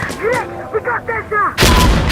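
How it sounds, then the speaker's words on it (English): In the Insurgency Sandstorm shooter game, a voice shouts urgently before a loud, sudden mortar blast bursts in near the end and rumbles on briefly. "Counterattack! Mortars incoming! Counterattack!"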